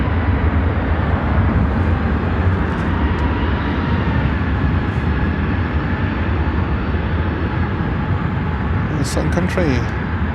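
A Sun Country airplane at Chicago O'Hare airport gives off a steady, loud broadband jet roar for the whole stretch, with a few faint brief chirps near the end.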